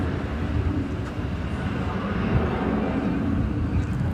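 Frontier Airlines jet taking off at DFW Airport, a steady broad engine roar under overcast weather, constant and moderately loud without clear change in pitch.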